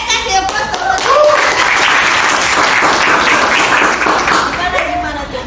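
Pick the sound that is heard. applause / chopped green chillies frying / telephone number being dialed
applause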